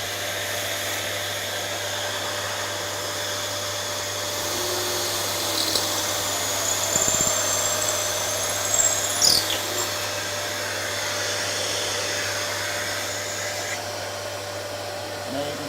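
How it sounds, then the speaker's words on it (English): A dust extractor roars in a continuous steady whine as holes are drilled one after another into wood for dovetail drawers, with a few faint knocks and brief drill surges over the drone. "I'm going to turn the dust extractor on. And then I'm just going to go through the series of holes."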